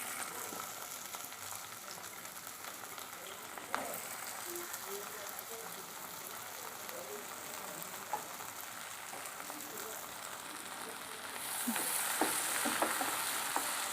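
Chopped onion frying in foaming mustard oil for a yogurt shrimp dish gives a steady moderate sizzle and crackle, with a few stirring clinks and a brighter, louder hiss toward the end.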